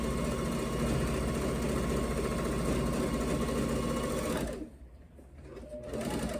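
A sewing machine chain-pieces rag quilt squares with a loud, close, steady mechanical whir. It dips briefly as stitching pauses, then picks up again.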